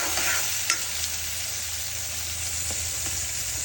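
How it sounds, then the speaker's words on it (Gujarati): Chili, ginger and garlic paste sizzles steadily in a hot pan for dum aloo, a continuous close frying hiss with a few light stirring scrapes and taps, no voices. "મરચાં આદુ લસણની પેસ્ટ નાખીશું। એને થોડી વાર સાંકળી લઈશું।"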